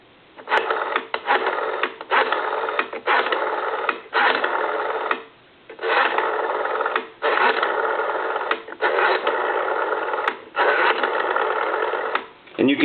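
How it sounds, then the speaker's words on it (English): A Western Electric WE 500 rotary desk telephone is dialed repeatedly, each number a rapid run of pulse clicks as the dial spins back, separated by short gaps, heard close with a filtered, telephone-line quality. "we'll go ahead and dial some numbers"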